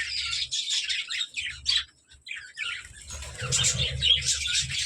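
A colony of budgerigars chirping and twittering in rapid bursts of high, bright calls, close by, with a short lull before the chatter swells again alongside a low background rumble.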